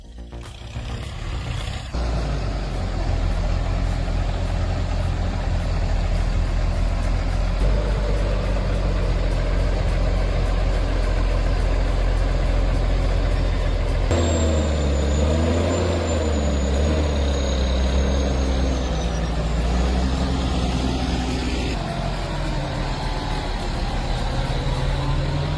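A tractor buried in deep mud runs its engine continuously, a heavy low rumble that holds steady for the whole stretch, then shifts pitch and strains partway through as the revs change, close and loud with no voices.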